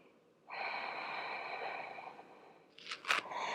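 A long, close, steady breath drawn through the nose during a gentle yoga exercise, followed by a couple of short sharp sniffs near the end.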